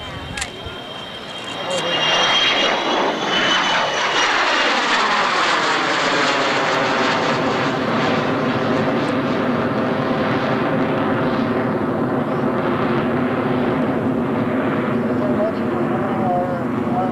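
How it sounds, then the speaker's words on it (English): A Lockheed U-2 at an air show roars past. The steady jet engine noise swells and holds loud, and the falling, sweeping tone of the flyby continues for many seconds. "Here comes the U-2, approaching from the right."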